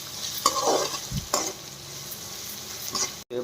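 Salt being stirred into oil in a pan for cauliflower fry, a steady scraping stir over soft sizzling, with a few louder spoon scrapes and a brief clink near the end.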